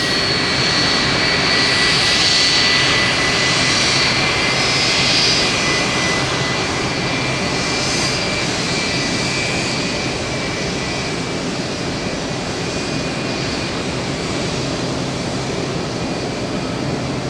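A Boeing 737 cargo jet lands at night at Tampa airport with a loud, continuous roar of jet engines that swells early, then holds a steady heavy rumble and whine throughout.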